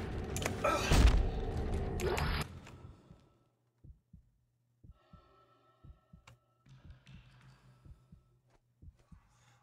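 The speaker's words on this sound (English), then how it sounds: "I can hear my own heartbeat." A steady heartbeat plays in the horror video game Dead Space 2: soft, low paired thumps repeat at a regular pace after a brief burst of louder game noise at the start.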